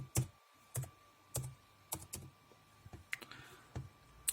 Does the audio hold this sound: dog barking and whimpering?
no